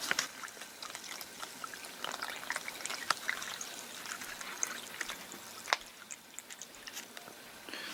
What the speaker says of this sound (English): we'll fill this up with water